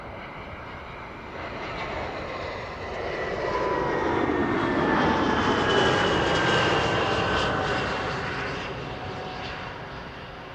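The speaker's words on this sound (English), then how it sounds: "BA A319 arriving from London Heathrow." A British Airways Airbus A319 arriving at Amsterdam Schiphol from London Heathrow passes overhead, its jet roar building from moderate to a loud peak around the middle and then fading, with no talking.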